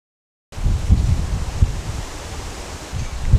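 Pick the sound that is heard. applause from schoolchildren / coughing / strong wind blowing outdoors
strong wind blowing outdoors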